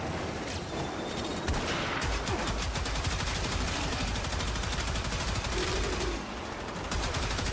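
Continuous rapid gunfire from a gun in Warframe, a dense, loud automatic stream of shots that barely pauses over the full stretch, with a brief lull near the end before firing resumes.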